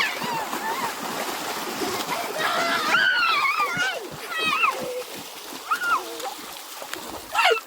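Water splashing and sloshing close by at a waterfall, with excited children's voices and squeals over the top throughout.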